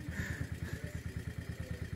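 A motorcycle engine runs after starting on a ride around Lake Garda, a steady low rhythmic chugging that stays fairly quiet throughout, with no voices heard.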